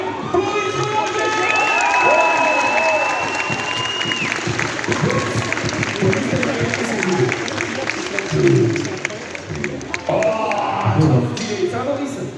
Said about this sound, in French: Je vous demande d'applaudir Boris Valentin.